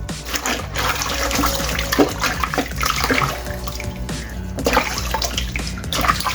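Cold tap water runs steadily over freshly picked vegetables being rinsed in a sink, a continuous, fairly loud splashing gush with no pauses.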